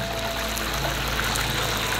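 Two chicken tenders deep-frying in hot oil make a steady, dense bubbling and sizzling hiss, close and continuous with no talking over it.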